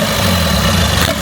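Steady low drone of a boat motor at a crowded floating market in Ratchaburi, Thailand, running close and continuous without pause.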